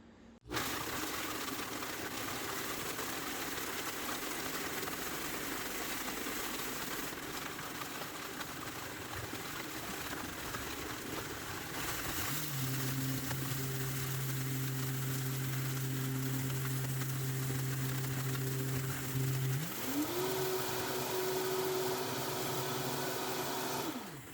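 Ninja blender grinding dehydrated pumpkin into powder, a steady loud whirring drone that runs throughout, with the motor pitch rising and shifting into a higher steady whine in the second half.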